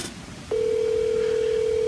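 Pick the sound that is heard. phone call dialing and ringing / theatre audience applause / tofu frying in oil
phone call dialing and ringing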